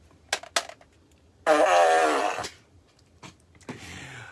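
A novelty fart machine lets out a long, loud buzzing fart lasting about a second, followed by a softer, raspier one, with a few sharp clicks before it in an otherwise quiet room.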